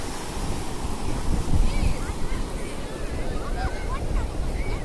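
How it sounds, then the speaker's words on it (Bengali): Ocean waves break and wash onto the sand at Marina Beach in Chennai, a steady, loud roar of surf with wind buffeting the microphone throughout. "ঢেউগুলো যখন তীরে এসে আছড়ে পড়ে তখন খুবই ভালো লাগে"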